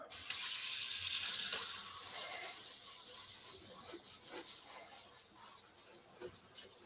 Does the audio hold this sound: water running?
yes